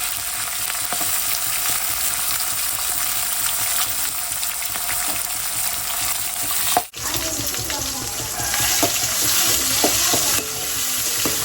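Onions frying in hot oil with fenugreek, cumin, mustard seeds, curry leaves and green chilies, a loud steady sizzle with stirring scrapes and a brief break partway through.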